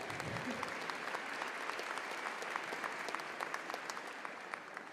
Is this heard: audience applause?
yes